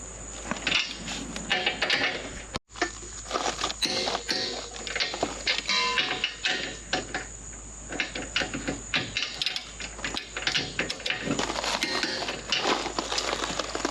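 A torque wrench ratchets on hitch bracket bolts for a weight distribution hitch, with rapid repeated clicking bursts and metallic clatter running nearly continuously, close and fairly loud, with one brief gap.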